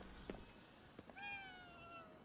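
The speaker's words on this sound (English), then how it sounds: "Also, kitty." A cat in the video game Ghostwire Tokyo gives a single drawn-out meow after a couple of soft clicks, clear and fairly close against a quiet game background.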